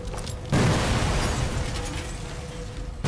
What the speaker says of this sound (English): More explosions over there.